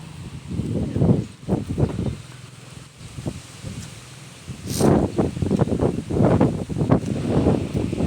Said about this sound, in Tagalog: Grabing hangin, oh.